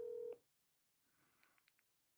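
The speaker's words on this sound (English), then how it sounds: "on stream, I'm calling someone I know named Erin and asking her where she plans to go." A phone call being placed: a steady dial tone cuts off, followed by a quick, faint sequence of short dialing beeps.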